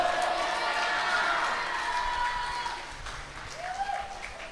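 A crowd at a church wedding claps to welcome the bride and groom, a moderate wash of applause that fades after a few seconds while voices cheer and call out.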